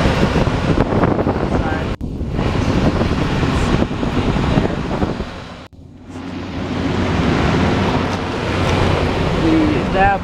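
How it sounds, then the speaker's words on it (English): An old Trane Weathertron heat pump runs with a steady, loud broadband whoosh of fan and compressor noise that cuts out briefly twice, with speech faintly mixed in. "here we have an old Trane Weathertron heat pump running."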